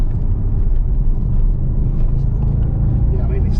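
An Audi RS4 Quattro engine under light throttle drones as a steady low rumble from inside the car, and talk runs over it.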